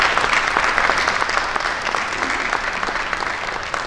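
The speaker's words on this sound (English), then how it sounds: "So one more round of applause." Audience applause at a conference award luncheon, a dense, steady wash of many hands clapping together for the full length, loud and close with no break.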